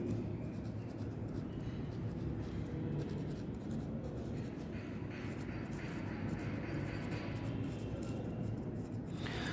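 A marker writes on a board in a Hindi-medium class 10 maths lesson, a steady scratchy squeak running almost continuously for about ten seconds over a low hum of room noise, with no talking.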